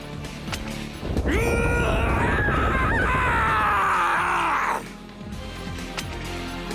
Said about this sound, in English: The wall started moving with that scream